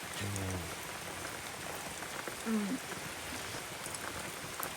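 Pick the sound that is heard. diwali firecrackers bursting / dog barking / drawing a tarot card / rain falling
rain falling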